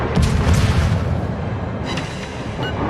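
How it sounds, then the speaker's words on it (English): Naval guns firing high explosive shells in a warship combat game with a French Jaguar destroyer: a loud, deep boom opens, followed by a rumbling roll and a second fainter report near the end. "I'm firing high explosive because I'm wanting to cause fires and incapacitate modules"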